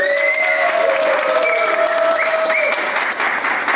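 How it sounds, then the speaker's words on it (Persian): A crowd at a summer 2024 rap battle claps and cheers in loud, continuous applause, with a dense wash of hands and some tonal sounds running underneath throughout. "آقا تشویق."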